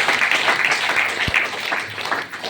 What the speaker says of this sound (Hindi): सबसे पहले मैं चाहूंगा कि मेरी माता पिता के लिए जबरदस्त ताली हो जाए।